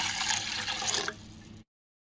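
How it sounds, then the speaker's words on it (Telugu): Water pours steadily into a pot holding four eggs set for boiling, a close, rushing splash for about a second and a half before it cuts off to silence. "వాటర్ పోసేసుకొని"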